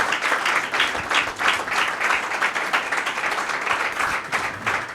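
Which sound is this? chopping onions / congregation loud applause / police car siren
congregation loud applause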